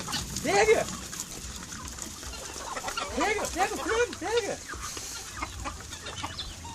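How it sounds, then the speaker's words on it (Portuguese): Chicken clucking in a rural yard in Goiás, a run of several quick rising clucks close by, repeated in a short burst, with people talking and calling out over it. "O frango lá, pega o frango lá, pega lá, pega."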